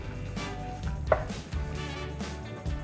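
A knife slices peeled hard-boiled eggs in half on a board, several soft thuds and one sharper tap spaced irregularly over a low kitchen background.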